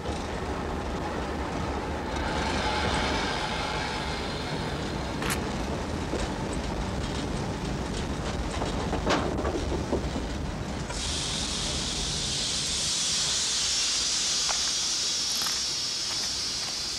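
A continuous rumbling roar of a train running on rails, with rattling clatter throughout and a steady hiss joining in partway through.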